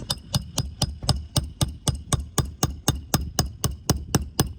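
Hammer driving a nail during a repair, a steady run of sharp, evenly spaced metallic strikes up close, about four per second, with no voices.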